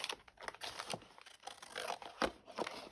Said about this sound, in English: I had some scissors because I think I'm going to cut it just straight